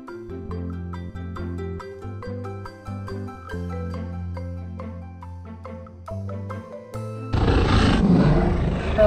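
A loud beast's roar in a Beauty and the Beast tale bursts in near the end, rough and broad, following a stretch of sustained orchestral music.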